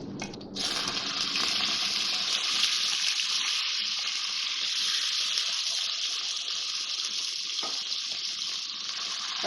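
Chicken frying in a pan over high heat with garlic, a steady loud broadband sizzle that starts abruptly and holds throughout, close and without talk.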